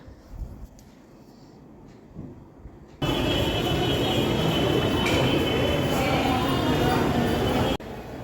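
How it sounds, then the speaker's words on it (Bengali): A train pulls in at Howrah railway station: after a few seconds of quieter platform ambience, loud, steady close rumble and rattle of rolling carriages fills the rest, with faint wheel squeal. "And here is our train"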